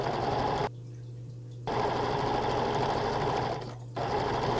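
A sewing machine stitching ribbon around the top of a sun dress, running in a loud, steady whirring burst, pausing briefly, then running again with another short stop near the end; no voices.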